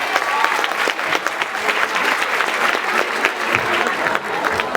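Wedding guests at a civil marriage ceremony break into steady, full applause, a dense crowd of claps held at even volume throughout, with faint voices underneath.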